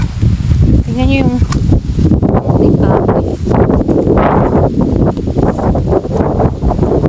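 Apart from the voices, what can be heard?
strong wind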